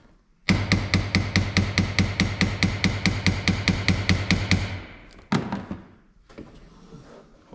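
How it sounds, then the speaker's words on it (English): A hammer taps rapidly on a car's wiper cowl, about twenty sharp, evenly spaced metallic knocks in a fast steady run, then a pause and one louder isolated strike, close up with no talking. "So what I do is I take a hammer and I tap that."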